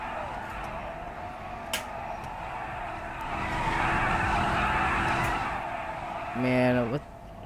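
Engines drone steadily and tires screech in a long skid near the end as cars drift in GTA V.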